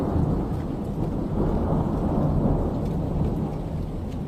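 Heavy rain pours down in a sudden storm with thunder, a dense, continuous roar of downpour at steady loudness throughout, with no voices.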